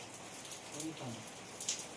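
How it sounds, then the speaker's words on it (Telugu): Steady rain patters across a broad hiss, with a faint murmur of voices beneath it and a few brighter drip sounds standing out. "ఎట్లా వర్షం కొడుతుంది"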